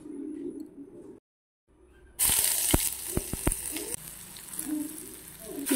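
An egg drops into a hot pan while Maggi noodles are being made. A quiet start and a short gap give way to a sudden loud sizzle, with a few sharp clicks of utensil against the pan as the frying hiss continues.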